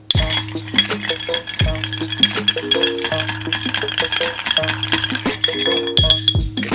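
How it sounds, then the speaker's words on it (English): A bar spoon stirs bourbon over ice in a mixing glass, giving a steady close rattle and clink of ice against glass in a continuous swirling rhythm, heard alone without talk. "now we're gonna talk about the amount of revolutions to stir"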